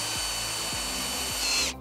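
A power drill boring a hole for a bolt during a Sea-Doo handgrip upgrade, a steady close whine running throughout with a few brief dips in speed, rising slightly toward the end.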